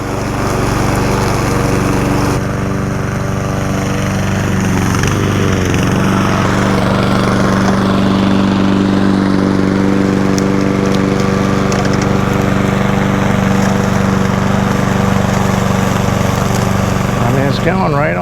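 A cheap Chinese remote-control lawn mower climbs a steep grassy incline with a loud, continuous engine whine and blade chopping through tall grass. A person talks over it throughout.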